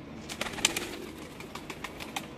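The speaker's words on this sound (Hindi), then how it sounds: "ये इनके बेसिकली ये जोड़ों वाले कबूतर हैं जी" Paired pigeons on a rooftop give soft cooing and a few wing flaps, close and moderately loud, with a brief cluster of sharper bird sounds early on.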